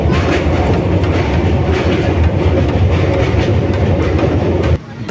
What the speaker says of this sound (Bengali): গঙ্গা পেরিয়ে হুগলিতে ঢুকে পড়ল ট্রেন।